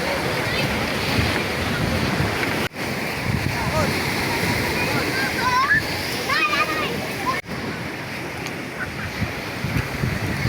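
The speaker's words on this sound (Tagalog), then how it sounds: "Malalaki yung alon." Large ocean waves wash and splash against a fishing boat at sea while strong wind buffets the microphone, with a continuous loud rush and voices talking through it.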